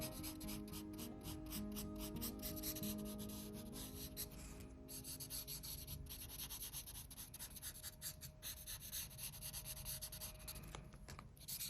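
A grey colored pencil shades a submarine drawing on paper, producing close, quiet, continuous scratchy rubbing strokes in quick repeated bursts.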